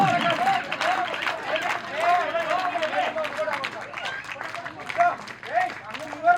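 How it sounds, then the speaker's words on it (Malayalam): Crowd applause and cheering fill a tug-of-war contest ground, dense and sustained throughout, with a loud amplified voice and festive noise layered over the clapping. "കൈയടിച്ച് നല്ലൊരു കൈയടി."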